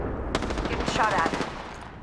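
Close, rapid gunfire bursts out in the video game Apex Legends, a short sharp volley of shots rattling over a low ambient bed before fading off.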